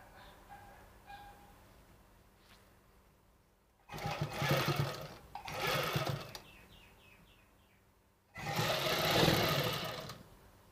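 A home sewing machine stitches a one-inch cloth strip onto a face mask in two loud, close bursts of running stitches separated by a quiet pause, with faint background sounds in between.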